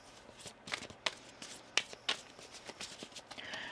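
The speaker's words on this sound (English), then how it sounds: "One more shuffle here." Crisp, papery tarot card riffles and slaps come in short bursts, a few sharp snaps standing out against a quiet room.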